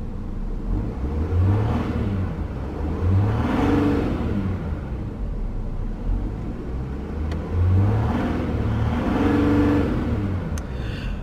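A 2016 Mercedes-Benz CLS350d Shooting Brake diesel is revved while stationary toward its limiter of about 3000 rpm. The close engine drone swells and falls in three or four smooth rev cycles, with no one speaking.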